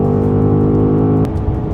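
A BMW M5 plug-in hybrid, a 727 hp turbocharged car, accelerating hard on a track with a loud, close, rising engine drone that shifts tone partway through.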